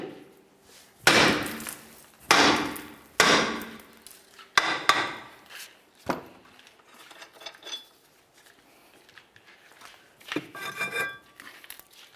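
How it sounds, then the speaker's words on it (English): A hammer strikes a rusted rear brake drum on a 2007-2012 Nissan Sentra, with about five sharp, ringing metal blows at uneven intervals, followed by fainter clinks and scrapes. "I'm just going to give it a loving bonk with the hammer to try to break it free."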